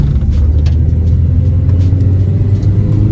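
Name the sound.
Honda Civic tires rubbing while driving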